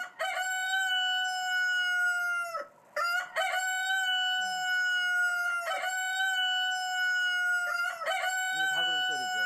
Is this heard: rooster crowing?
yes